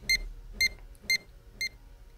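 A telescope leveling device on an equatorial mount beeping to signal it is level, four short, evenly spaced high electronic beeps, clear and moderately loud over a quiet background.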